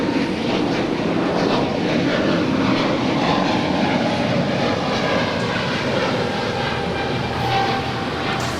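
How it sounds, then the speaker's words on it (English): An American Airlines A321neo taxiing at LAX gives a loud, steady jet engine rumble and whine that holds evenly throughout with no break. "That is American Airlines Flight 999 coming in from Miami, Florida. It's an A321 Neo waiting to cross over 25 right"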